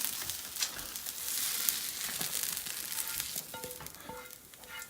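Onion sautéing in a pan for a lean beef spinach meatball pasta, giving a continuous close sizzle and crackle with a few light clinks and scrapes of stirring, and no talking.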